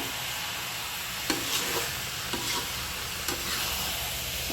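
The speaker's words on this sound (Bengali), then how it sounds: "এই ভাজিটা ভাজতে গিয়ে কিন্তু একটু পানি দিবেন না শুধু তেল দিয়ে এই ভাজিটা ভাজতে হবে" Vegetable filling for pitha fried in oil only, with coriander leaves, giving a steady broad sizzle in the pan and a few short stirring scrapes at regular intervals, close and moderately loud with no talk.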